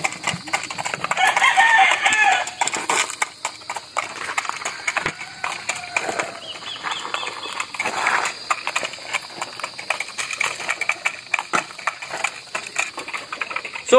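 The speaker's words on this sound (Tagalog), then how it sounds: "Tandang yung isa na yan mga kabakyard." A rooster crows loudly a couple of times among a busy, noisy backyard background of birds and clatter.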